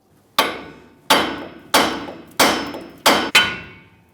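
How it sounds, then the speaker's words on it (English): Hammer striking the lower steering knuckle of a 1999-2006 Chevrolet Silverado 1500 to free the ball joint, six loud, close metallic blows with ringing decay, the last two coming in quick succession. "we're going to continue tapping, but this time it's going to be lower on the knuckle."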